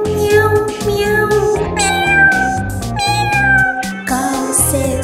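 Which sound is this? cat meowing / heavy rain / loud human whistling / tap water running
cat meowing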